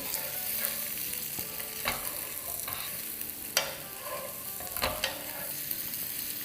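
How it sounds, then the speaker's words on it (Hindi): Boiled potato cubes seasoned with salt fry in a pan with a steady, moderately loud sizzle, and a few sharp scrapes and clatters of stirring cut through it. Nobody speaks. "आलू अच्छे से फ्राई हो गए"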